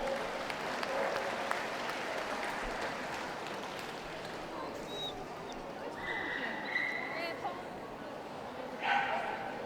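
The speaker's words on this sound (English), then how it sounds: "Ladies and gentlemen, a round of applause please for Mr. Derek Smith." Audience applause at a pastoral group dog show judging, a broad, moderately loud patter of clapping in a large hall, with distant voices and a few dog barks rising near the end.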